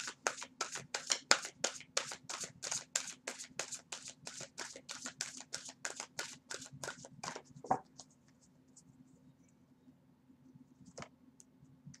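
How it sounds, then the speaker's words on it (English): A rapid series of crisp riffling bursts from cards being shuffled for a reading, steady and close, followed by quiet with a couple of faint clicks. "Let's get one shuffle on these."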